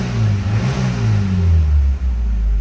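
A 1984 Pontiac Fiero pace car with a four-cylinder mid-engine revs up, a loud, close, low-pitched growl that rises in pitch and then dips, with no talking over it.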